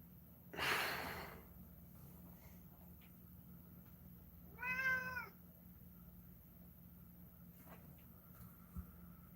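A house cat gives a single faint, drawn-out meow midway through, after a short breathy puff at the start, in an otherwise quiet room.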